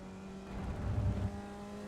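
A Formula Vee race car in the iRacing simulator drones at low revs at Circuito de Navarra, a steady engine hum swelling slightly and easing, faint and without talk.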